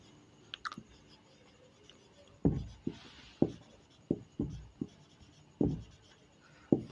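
A pen scratches on paper while working a trigonometry example in a maths lesson, giving close, short stroke bursts in an irregular rhythm, heard alone.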